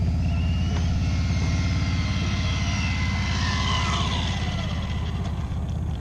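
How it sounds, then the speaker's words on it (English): A big Harley-Davidson motorcycle rumbles past outdoors, its deep throbbing engine swelling and then slowly fading, loud and alone with no talk. "Got a little Harley interruption here, guys."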